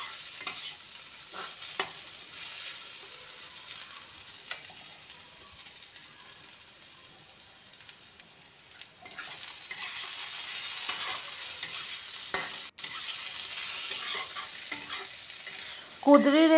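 Sliced kudri (ivy gourd) fries in a pan and is stirred now and then, giving a soft, continuous sizzle with scraping stir strokes that grows busier and louder in the second half.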